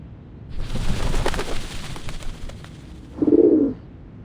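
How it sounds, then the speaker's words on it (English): Doves of the Whitestone House coo in a game scene from Reverse: 1999, a short, warm, low burst near the end that stands out over a soft, busy ambient bed. "The doves of the Whitestone House are here."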